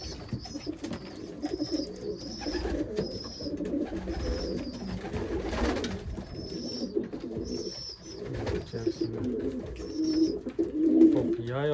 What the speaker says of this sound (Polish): Gołębie już właśnie kończą posiłek, już niektóre jeszcze coś tam grytów szukają